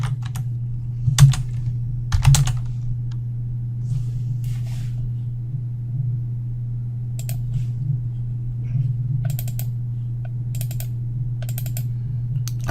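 Sparse clicks of a computer keyboard as a cd command is typed, a few short key taps and small bursts spread out over a steady low hum, close and fairly quiet.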